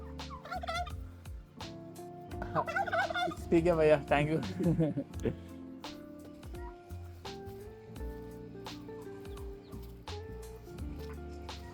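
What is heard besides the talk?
turkey gobbling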